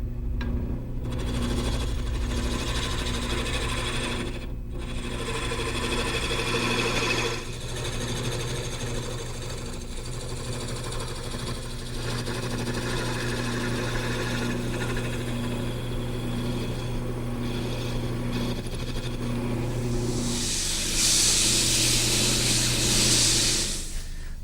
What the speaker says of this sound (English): Now I'll return to the gouge to taper the legs.